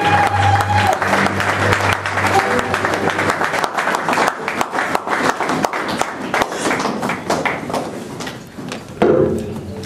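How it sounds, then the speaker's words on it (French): Church congregation at an M.C.M worship service applauding, a dense, steady wash of many hands clapping that continues through the whole stretch, with a few voices calling out underneath. "Acclamez Jésus, acclamons Jésus"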